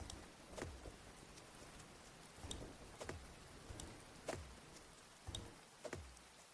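Rain falling in the farming video game Grimshire, a steady soft patter with scattered louder drop taps at irregular intervals, fairly quiet and heard alone without voices.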